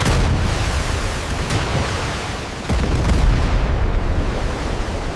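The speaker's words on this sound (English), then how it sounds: "One strikes Kumano's bow, blowing it clean off." A torpedo strikes the bow of the Japanese heavy cruiser Kumano in a battle at sea, a loud, deep, sustained explosive roar with rumbling blasts that swells again midway and fills the whole span.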